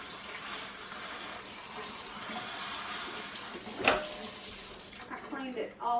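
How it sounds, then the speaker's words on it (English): Water streams steadily from a pulled-down kitchen faucet on its third spray setting into a sink with a continuous hiss, then a clunk and a brief voice near the end. "I took the faucet, I pulled it down, and I used that third setting"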